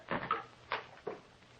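A wooden door in an old-time radio drama creaks and thumps through a few soft, close movements as it unlocks and swings open, with no voices.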